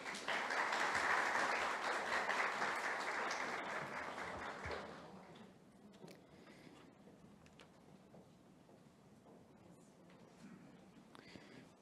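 A crowd applauds loudly for about five seconds at a municipal government launch event in Brazil, then the clapping fades out, leaving quiet room noise with scattered faint movements.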